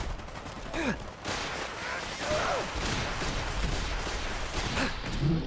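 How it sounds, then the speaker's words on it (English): An explosive machine gun fires in a Fallout 4 settlement battle: dense, rapid bursts of gunfire with booming impacts keep up throughout, with a voice faintly heard underneath. "I think that one settler has an explosive machine gun."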